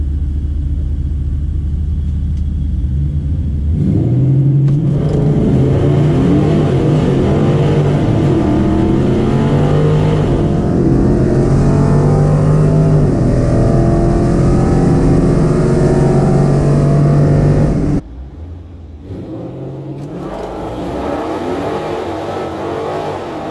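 Dodge Challenger drag race cars launching at a Holley MoParty 1320 Shootout event, a loud close engine roar building with rising revs for over ten seconds, then cutting off abruptly and leaving fainter distant rumble.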